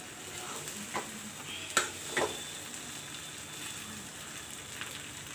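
Tomato rice is stirred in a pan over a faint, steady sizzle, with a few soft scrapes and clinks of the utensil against the pan; quiet and close, no talking.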